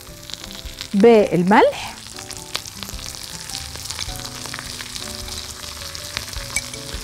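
Finely minced red onion sizzles steadily in hot oil in a pan, with a brief voice cutting in near the start and a constant frying hiss throughout.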